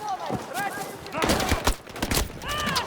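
Rapid bursts of automatic gunfire in the game Battlefield 2042, sharp cracks clustered in flurries amid chaotic combat noise, with a voice talking over the shooting.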